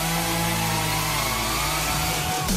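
A chainsaw runs continuously at high revs, loud and close, its harsh buzzing engine drone filling the whole stretch with no voices.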